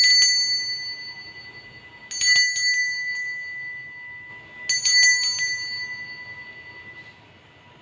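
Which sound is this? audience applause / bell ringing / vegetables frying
bell ringing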